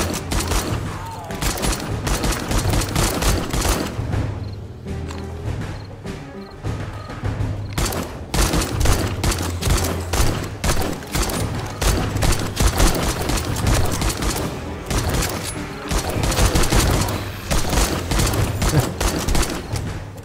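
Dense, continuous gunfire from the zombie survival game 7 Days to Die during a blood moon night, rapid bursts and single shots crackling loud and close for the whole stretch, with occasional faint voices beneath.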